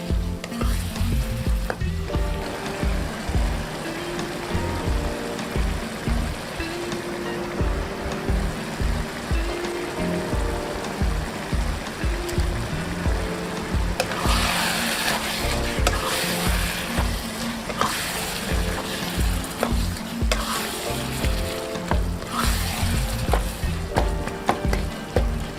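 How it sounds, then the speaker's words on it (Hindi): Minced meat keema sizzles and fries steadily in a pan for aloo keema, with a spoon stirring and scraping in repeated rhythmic strokes throughout. "कीमा ऐड करने के बाद इसको 4 से 5 मिनट के लिए आपने ऐसे ही भूनना है"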